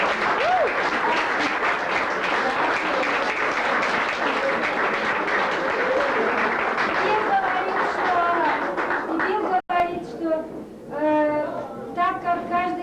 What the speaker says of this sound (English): So I want all of our host families to stand and give them a round of applause.